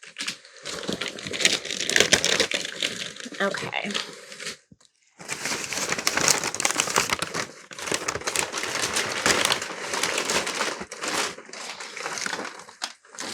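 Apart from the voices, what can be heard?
paper wrapping being unwrapped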